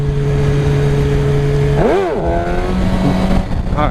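A motorcycle rider popping a wheelie and holding it at the balance point: the engine drones steadily, then revs sharply up and back down in a quick swell, then settles to a lower hum with another brief rev at the end.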